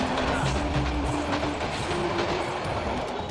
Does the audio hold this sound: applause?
no